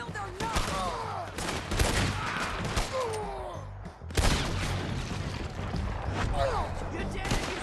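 A chaotic shootout in Red Dead Redemption 2 fills the scene with rapid, overlapping gunshots, loud and close, under urgent shouted voices and ricochet-like whistles.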